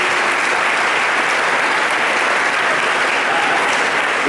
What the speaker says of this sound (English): Clap for Yashika.